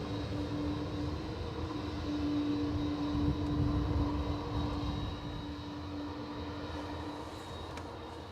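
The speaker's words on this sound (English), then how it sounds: "Behind this is another Aer Lingus A320" Aer Lingus A320 airliner at Dublin Airport, a distant steady jet engine rumble with a faint whine, swelling gently in the middle and then holding at a moderate level, with no voices.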